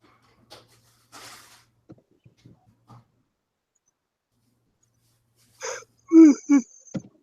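People yawn during an indoor recording session, with a few faint breaths and small rustles followed by a loud, drawn-out yawning voice with wavering groans near the end, close to the microphone.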